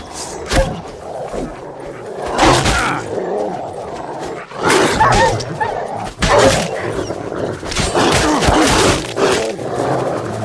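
A pack of stray dogs barks and snarls in The Witcher 3 as they attack, loud overlapping bursts of growling and barking amid combat noise.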